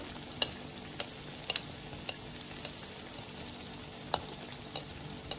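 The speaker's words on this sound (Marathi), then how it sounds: "लगेच तळून होतात हे एकदा तेल तापलं की" Chicken bread keema rolls deep-frying in hot oil, a quiet steady sizzle with scattered small pops and crackles throughout, faint and close.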